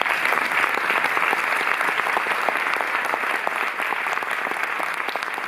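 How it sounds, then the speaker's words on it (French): Steady audience applause rings through the Cinémathèque française hall at an opening-night retrospective event, many hands clapping continuously at moderate volume with no talk over it. "faites-moi l'amitié d'applaudir aussi la présidente de l'Institut Lumière"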